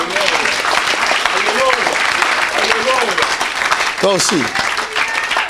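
A church congregation applauds and cheers for the Lord, loud sustained clapping under excited voices and shouts, with a short spoken phrase cutting through.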